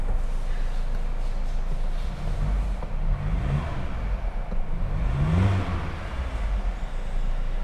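A car fitted with a TDI tuning box starts and revs, with a steady engine rumble and two short throttle blips that swell and fade. No voices are heard.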